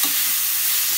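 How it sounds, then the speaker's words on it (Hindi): Garam masala and spices roast on low heat in a pan, giving a dense, even hiss that holds steady for a brief moment, close up with no voices. "और एकरा सबके कम आंच पर भूज लेके छै।"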